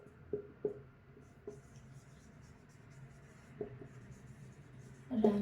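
A pen writes accounting entries by hand on paper, making faint scratching strokes and a few light taps, quiet and close, with a louder rustle at the end.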